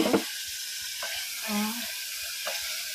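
Beans frying in a pan of vegetables seasoned with chili powder, a soft steady sizzle running throughout with a few brief clinks and scrapes of a utensil, up close.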